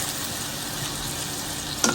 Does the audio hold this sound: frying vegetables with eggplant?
yes